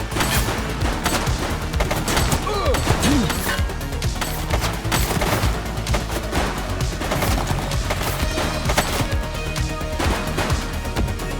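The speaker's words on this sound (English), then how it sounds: "Shots fired!" Gunfire in the police video game The Precinct, a dense, continuous barrage of loud shots and crashing impacts with no pause, close and overwhelming throughout.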